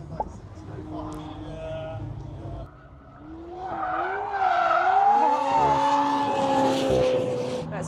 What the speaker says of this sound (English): And the McLaren's drifting behind him.